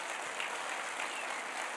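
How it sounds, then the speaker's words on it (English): Sustained applause from a crowd at a portrait unveiling ceremony at Georgia Military College, steady clapping throughout without any voices. "please join me in one more round of applause for Mr. Penley."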